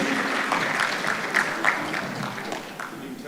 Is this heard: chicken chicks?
no